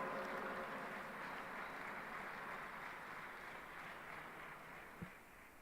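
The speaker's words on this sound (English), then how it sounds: "Let us have a huge round of applause for Dr." An audience at a World Parliament of Science, Religion & Philosophy gathering claps in a sustained, even wash of applause that fades slightly, heard at a distance and fairly quiet.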